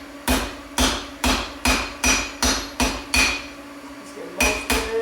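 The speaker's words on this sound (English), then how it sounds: "I got a sharp spot on my anvil right here, and I'll just bend this over and knock it off" A hammer strikes a metal tip on an anvil to bend it over and knock it off: about ten loud, ringing, sharp blows in a fairly steady rhythm, close up, with a brief pause near the end and no talking.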